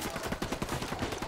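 Rapid gunfire rattles continuously in Ghost Recon Wildlands, a dense stream of loud, close shots with a rough, crackling texture and no pauses.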